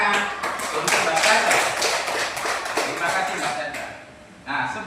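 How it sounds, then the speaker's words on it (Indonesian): Clapping from a classroom group during a teaching assessment lesson, a dense burst of claps that fades toward the end, with voices talking over it. "Beri tepuk tangan untuk Mbak Sandra."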